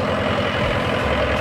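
A tractor engine labouring to pull a trolley stuck in wet ground, giving a loud, continuous low rumbling drone that stays close and steady throughout the short stretch.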